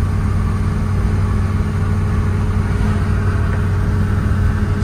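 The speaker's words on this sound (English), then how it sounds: "I'm running 55 mile an hour now, uphill, in fourth gear" Engine of a 1967 Pontiac GTO pulling steadily uphill in fourth gear at about 55 mph, a continuous loud low drone with road and wind roar and no break in level throughout.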